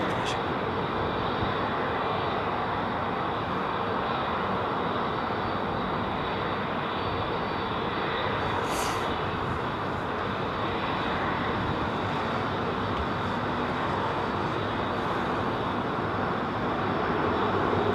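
Heavy aircraft engines roar at London Heathrow Airport in a steady, broad, loud drone that holds for the whole stretch, with faint talk mixed in underneath.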